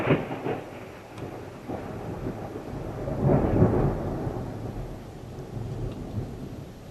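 Thunder rumbles low and long during a storm, swelling into a heavier roll midway before fading back to a steady background grumble, with no voices.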